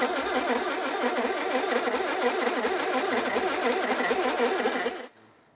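The engine of a motorised furniture race vehicle on a scrapheap-build game show runs with a steady, buzzing, loud chug, then cuts out abruptly near the end.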